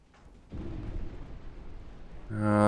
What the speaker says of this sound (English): Portside torpedo away.